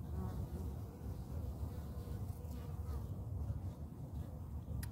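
Honeybees buzzing steadily inside a hive box holding a new queen, a dense, continuous hum that stays close and even throughout with no voices.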